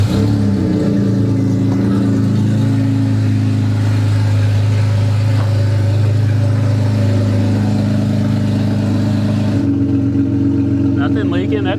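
Honda engine fitted with a custom-fabricated turbo kit idling steadily and loudly up close, a constant droning hum with a slight pitch change near the end, no talking.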